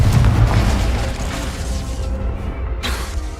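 A Confringo fire spell in Hogwarts Legacy bursts with a loud, deep boom that rolls into a long rumbling tail, fading over a few seconds with no voices.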